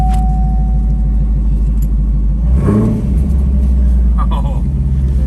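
Classic car with a 455 engine rumbling at idle and then revving up midway, a loud low throaty roar from close by, with people talking over it.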